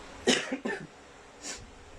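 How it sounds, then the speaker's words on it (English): A person coughs a few times in quick, harsh bursts, followed by a softer breathy cough a moment later. "I'm sorry for the cough"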